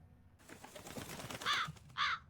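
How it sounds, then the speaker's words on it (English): A crow caws twice as it flies off with a shiny coin, two harsh calls standing out near and loud over busy outdoor background noise. "That crow just flew off with the coin!"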